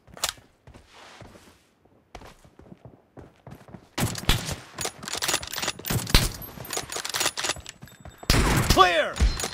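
M24 sniper rifle shots in the mobile battle game PUBG Mobile during a team deathmatch, sharp cracks and thuds scattered across the clip, sparse at first then denser and louder, with brief voice chatter mixed in.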